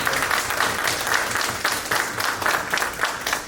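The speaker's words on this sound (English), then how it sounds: "can we give them a round of applause?" A crowd at a diversity dialogue event gives a round of applause, dense and steady clapping that fills the whole stretch at a fairly loud, even level with no talk.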